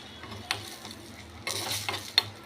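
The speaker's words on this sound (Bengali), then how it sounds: "কাশ্মীরি লাল লঙ্কা এক স্পুন একদম উবু উবু দিয়ে এটাকে একটু নেড়ে নিলাম" A spoon stirs a sizzling spice tempering with Kashmiri red chilli in a hot pan, with a low steady frying hiss under several short scraping strokes spread over a couple of seconds, close and without speech.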